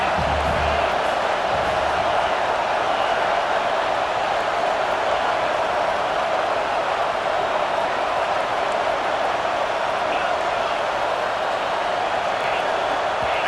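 Steady, loud stadium crowd roar in the College Football 26 video game, a dense sustained wash of noise rising into a false start by the offense, with commentary voices talking over it throughout.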